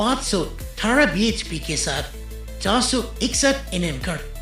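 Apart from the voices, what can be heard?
No everyday noises stand out.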